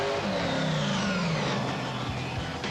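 Monster Jam truck Digger accelerating hard down a short straightaway, its engine roaring loud and close with a sweeping pitch as it shifts from first to second gear.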